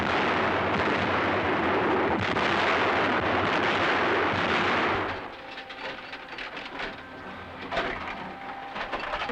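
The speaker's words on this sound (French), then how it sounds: "L'artillerie déployant ses feux dans la profondeur de la zone des combats a choisi le calibre de 155 mm" 155 mm artillery guns fire in a heavy, sustained roar that fills the first half, then dies away into rumbling echoes and scattered lighter cracks.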